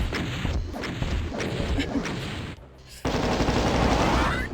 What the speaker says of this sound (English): I'm just shooting rockets at them.